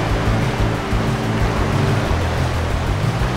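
Steady, dense roaring water ambience from a waterfall in the video game Among Trees, a constant loud rush with a low rumble underneath.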